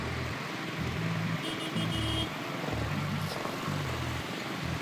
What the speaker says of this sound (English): that sure is some traffic noise